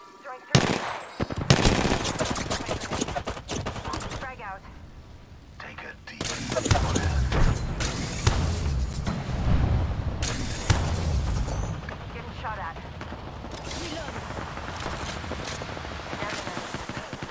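Video game gunfire rattles in rapid bursts, loud and close, with sharp shots and booming impacts spread through the clip and quieter gaps between volleys.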